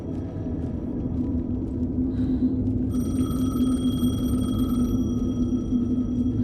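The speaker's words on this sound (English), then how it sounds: "The payphone was ringing." A payphone rings in the video game Alan Wake 2, its electronic ring tones sounding over a steady low ambient rumble, fairly clear and continuous in the latter part of the clip.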